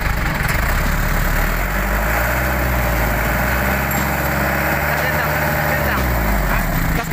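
A cold diesel engine running steadily while its throttle is tested after tuning, a loud close rumble with slight variations in pitch, under occasional speech.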